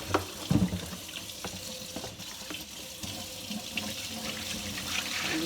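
Tap water runs steadily into a sink while the rinse water for cleaning make-up brushes is changed, a continuous close splash with a few clinks near the start.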